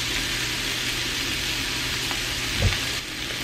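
Sausage frying in a pan while flour is sprinkled in, a steady close sizzle with faint stirring scrapes and a brief soft bump near the end.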